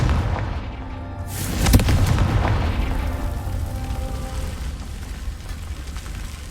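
A blasting spell going off in Hogwarts Legacy, a single deep boom with a sharp crack that swells and then rolls off into a long rumbling decay, fairly loud against low background ambience.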